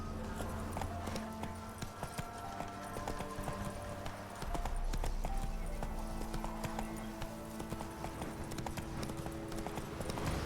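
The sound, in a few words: horse Roach galloping in video game The Witcher 3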